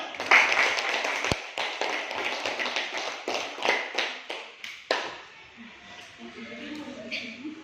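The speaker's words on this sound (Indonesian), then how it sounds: "Oke, kita berikan aplaus dulu untuk kelompok 1." A classroom group applauds a student team, scattered, uneven hand claps with sharp taps that fade out after about five seconds, followed by quiet background voices.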